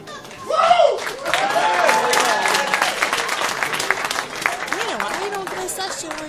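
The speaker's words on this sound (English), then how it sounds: "let's give a huge round of applause" Crowd applause at a business opportunity meeting, dense and continuous from many hands, with a voice talking over it near the start and music tones running underneath.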